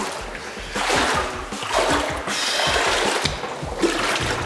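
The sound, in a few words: hikers wading and splashing through cold water in a narrow canyon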